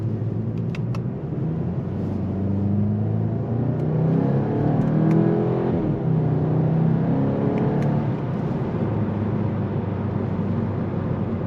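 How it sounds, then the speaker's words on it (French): A Volkswagen Golf 8 GTI with a 2.0 TSI engine and DSG gearbox drives in sport mode, its engine a steady low rumble that swells as it revs up midway, then eases back, with faint clicks above. "Je vais vous faire écouter du coup le son du véhicule."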